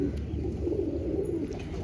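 A female Deobandi Fulsira pigeon of a silver breed gives a short, soft, low coo, close by and alone.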